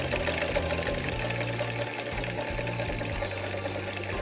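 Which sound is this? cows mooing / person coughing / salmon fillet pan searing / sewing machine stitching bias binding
sewing machine stitching bias binding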